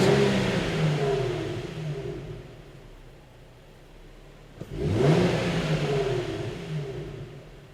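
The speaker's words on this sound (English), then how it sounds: "we're going to rev the engine up a few times and make sure that the idle returns back to normal" A Nissan or Infiniti engine during a throttle relearn, revved twice from idle: a loud rising and falling roar that drops to a low idle hum, then a sudden second rev swelling and slowly settling back, close and alone.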